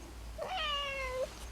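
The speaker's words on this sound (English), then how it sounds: "That's a cat. That's the same cat who was in here last time." Domestic cat giving a single clear, fairly close meow that rises and holds before cutting off, against a quiet room hum.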